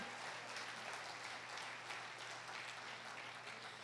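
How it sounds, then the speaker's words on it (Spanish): Members of a church congregation applaud during a family worship service, a faint, continuous patter of clapping heard steadily throughout. "Alaba al Señor, dale fuerte ese aplauso"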